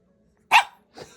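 A dog gives one sharp bark followed by a softer second bark, close and clear against silence.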